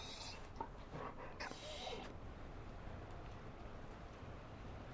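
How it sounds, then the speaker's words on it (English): Mabari war dog panting in the Dragon Age Inquisition video game, at the Winter Palace: soft, quick breathy panting and a faint whimper over a steady ambient hum, fairly quiet, with a few creaks and clicks early on. "Is that a Mabari? Found a dog?"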